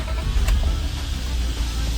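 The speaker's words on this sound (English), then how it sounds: "The car runs, and it runs like pretty decent for being on 2-year-old gas" A car engine with its seized alternator removed idles steadily on two-year-old gas, a loud, even low rumble close by with a brief higher tick near the start and no talking.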